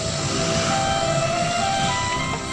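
A train rolls past on a curved stretch of railway near Cirahong, a steady loud rumble with faint high wheel squeal along the bend, continuous and close throughout.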